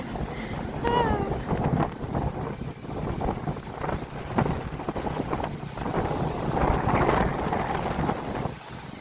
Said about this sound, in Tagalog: Parang tinutulak ako ng hangin.